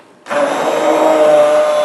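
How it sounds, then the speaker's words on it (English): Immersion blender switching on and steadily whirring through a pot of potato and leek soup, a sudden loud start followed by an even, sustained motor hum with no talking. "I have an immersion blender, and I'm just going to turn it on,"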